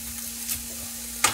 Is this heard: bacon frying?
yes